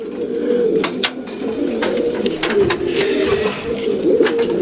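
Several pigeons cooing inside a loft, repeated soft throaty coos layered close together, with occasional wing flutters and sharp clicks.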